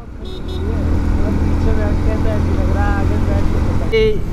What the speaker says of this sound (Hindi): भाई सब बढ़िया चल रही है भाई बाइक।